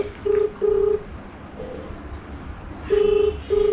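A phone call ringing out unanswered, heard as repeated short electronic tones in pairs, moderately loud over quiet background noise.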